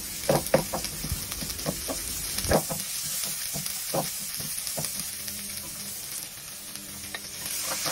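Onion sautés in a pan with a steady close sizzle, broken by clicking stirring strokes in the first few seconds.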